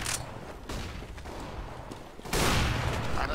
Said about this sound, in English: I shot first!